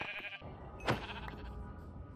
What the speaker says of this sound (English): And I'm going to kill these sheep, because I want a bed.